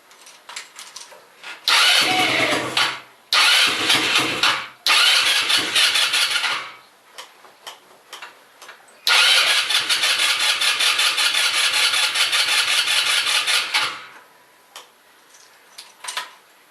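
Kingway Fennari scooter with a carburetor problem being started, with several short cranking-and-firing bursts followed by a longer stretch of loud, rapidly ticking small-engine running that then cuts out, close by.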